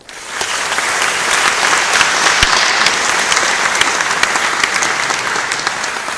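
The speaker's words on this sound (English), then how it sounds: "How about a round of applause for Andrea" A room full of people claps steadily, a dense, even wash of applause that holds at the same level from start to end.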